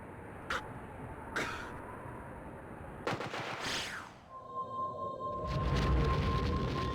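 A few sharp gunshots crack out in a spooky FMV video game, two isolated bangs early on and then a louder burst, followed by sweeping, warbling synthetic tones and a low rumble.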